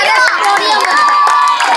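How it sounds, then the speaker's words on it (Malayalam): Young children clap together at a night sky-watching session, a loud, dense burst of applause mixed with cheering and excited shouting from a nearby crowd. "നല്ല ക്ലാപ്പ് കൊടുക്ക്"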